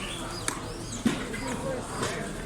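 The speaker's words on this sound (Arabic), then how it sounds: "هذا حمام بلجيكي. شوف ما شاء الله الجمال اللي فيه." Belgian pigeons at a bird market in Saudi Arabia giving soft low coos, faint and intermittent under market background noise.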